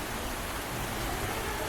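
Heavy, sudden rain falls in Hyderabad, a dense, unbroken hiss of downpour that stays loud and even from start to finish.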